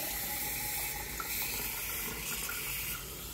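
Water runs steadily from a kitchen sink tap under low water pressure, a continuous moderate splashing stream into the basin with no voices.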